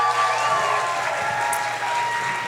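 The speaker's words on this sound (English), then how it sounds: "Give a round of applause to everybody on this stage" An audience applauds everyone on stage at a foundation challenge event, a steady wash of clapping held at an even level throughout.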